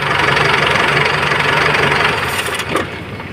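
Isuzu 4JJ1 diesel engine, smoking heavily, runs loud and close with a steady knocking idle clatter that eases slightly near the end, with no talk.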